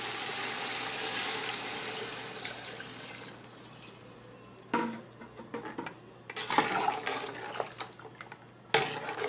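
Water for mutton pulao rice splashes and streams steadily into a metal pot, a continuous rushing pour that fades, followed by a few clanks and knocks of cookware.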